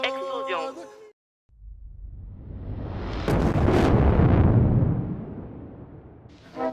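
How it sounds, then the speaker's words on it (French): A big explosion swells from a low rumble into a roaring blast that peaks and slowly fades over several seconds, loud and alone, with brief talk before it and a voice starting again at the end. "explosion."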